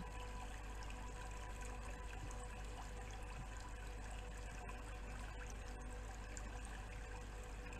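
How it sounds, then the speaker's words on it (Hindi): A flowing waterfall heard as a steady, continuous wash of running water with an even trickling texture, moderately quiet and unchanging throughout, with no voices. "और ये बहता झरना"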